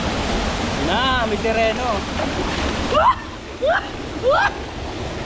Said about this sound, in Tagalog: Ito yung pinakamalapit naming spot dito sa falls.